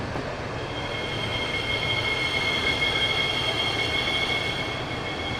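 An OEBB 4023 electric multiple unit in Train Simulator 2016 on the Semmeringbahn runs with a steady rumble of rolling stock and a sustained high brake squeal, loud and unbroken throughout with no talk.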